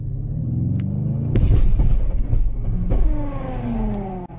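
An expensive car revs hard with launch control, a loud sustained engine roar with rising and falling harmonics and a burst of harsh noise midway, close and alone without talk.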